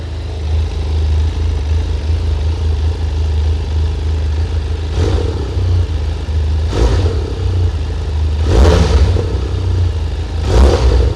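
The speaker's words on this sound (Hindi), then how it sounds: "please come and crank up the motorcycle" A 2021 BS6 Benelli TRK 502 parallel-twin motorcycle idles with a loud, steady rumble. The exhaust note rises in four sharp rev blips spaced a couple of seconds apart.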